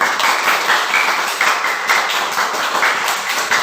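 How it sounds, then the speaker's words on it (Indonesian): Applause from students in a classroom, a dense patter of clapping that stays steady and fairly close for a few seconds. "Bagus, tepuk tangan"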